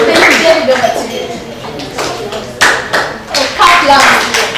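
An audience at a national environmental primary school debate and speech championship claps loudly, a dense patter of many hands with sharper bursts, mixed with voices talking over it.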